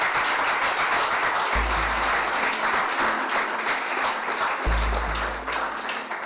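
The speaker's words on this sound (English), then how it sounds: "Let's give a big applause to all the people who worked for it." Audience applause at a cultural heritage celebration event for Asmara, with sustained, dense clapping from a large crowd lasting several seconds, swelling and easing slightly toward the end.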